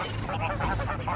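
A flock of geese honking together at close range, a dense overlapping chorus of calls that fills the whole moment.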